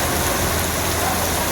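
Heavy monsoon rain pours steadily through flooded streets of Surat's Hirabaug and Kapodra areas, a dense, continuous hiss of downpour on surfaces, loud and close with no pauses.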